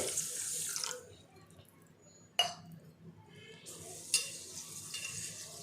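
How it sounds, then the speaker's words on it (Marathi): Grain being swished and washed in a bowl of water, with a few distinct splashes and sloshes between quieter stretches of stirring. "ह्याच्यामध्ये आपल्याला तीन चार वेळा ही नाचणी चांगली स्वच्छ धुवून घ्यायची आहे"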